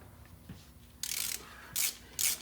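Ratchet with a 13 mm socket loosening brake caliper bolts on a Ford Econoline E-150, three close bursts of rapid metallic clicking separated by short pauses.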